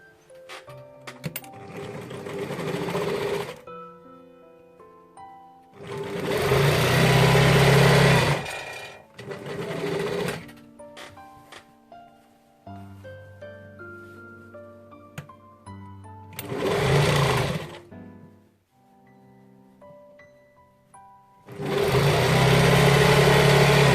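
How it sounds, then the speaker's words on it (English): A sewing machine stitches the sleeve and shoulder of a gathered-waist dress together in several loud runs separated by quiet pauses, close up with no speech. "I'm going to sew the shoulder in the sleeve and shoulder together."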